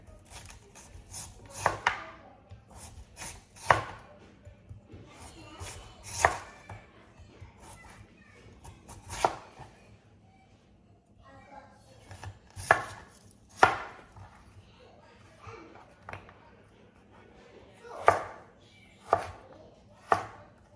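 Potatoes are sliced into circles with a knife on a cutting board, giving irregular crisp chops spaced a second or two apart, close and moderately loud against a faint background hum, with no speech.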